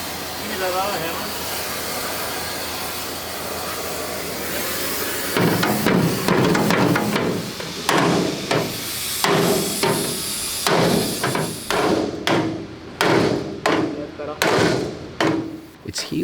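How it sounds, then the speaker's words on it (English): Hammer striking a car mudguard, a sharp run of loud metallic bangs at an uneven rhythm, close by, following a stretch of steady blowing hum, with a voice talking briefly. "Give me that other hammer."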